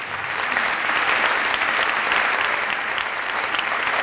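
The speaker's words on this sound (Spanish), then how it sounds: "Lo recibimos con un aplauso" Seminar audience welcoming a speaker with dense, sustained applause, a loud even roar of many hands clapping continuously throughout without pause.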